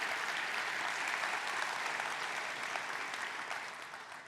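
A large keynote audience at a software conference in Europe gives sustained, even applause heard from a distance, slowly tapering off toward the end.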